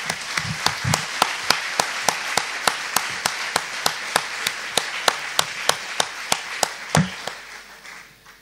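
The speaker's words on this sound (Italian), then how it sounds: "è bello iniziare facendoci anche un bel applauso tutti insieme" Audience applause opens the first evening of a Bible week, built from evenly spaced sharp claps in a steady rhythm, like a few people clapping in unison, fading out near the end.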